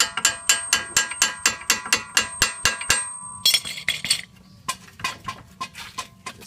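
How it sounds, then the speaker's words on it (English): Rapid ratchet clicks loosen the front brake caliper bolts on a 1999 Jeep Wrangler, a steady run of about a dozen close, sharp clicks followed by a burst of metallic clatter and a few slower, scattered clicks. "the next thing we're going to do is take the caliper off"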